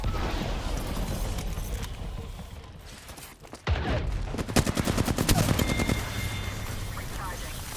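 Gunfire in the battle royale video game Apex Legends: a sustained, noisy mix of rapid shots, with a sharp burst of close automatic fire in the second half, while a voice talks over the action.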